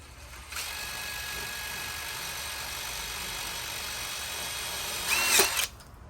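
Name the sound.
power drill driving a 3-inch screw into a dowel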